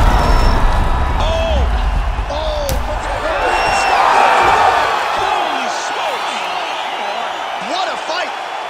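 Arena crowd in the fighting game UFC 5 roaring after a TKO, a loud swell of cheering and whoops that peaks midway then fades, with commentators talking over it.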